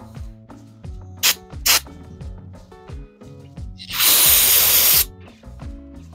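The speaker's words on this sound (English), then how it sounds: "I'm spraying them down with brake clean and wiping them down too" Aerosol brake cleaner sprayed onto dusty V8 engine parts from a 1976 Gremlin during reassembly, two short sharp hissing bursts followed by a longer loud spray lasting about a second, over a background of music.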